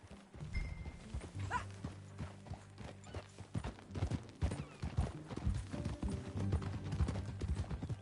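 Rhythmic horse hooves clip-clopping at a brisk pace in the video game Red Dead Redemption 2, close and fairly loud, with a low musical drone and a brief whinny-like tone early on.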